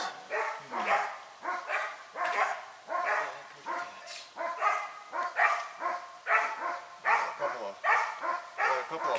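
Several dogs bark at bobcats in a yard at night, a rapid repeated run of loud close barks and yips in steady rhythm throughout, with no pause.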